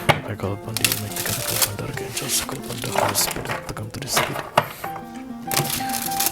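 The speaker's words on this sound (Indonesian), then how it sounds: "3 kali shuffle lagi." Tarot cards riffled and shuffled by hand in repeated bursts of dry papery flicking and clacking, close up, running under steady background music.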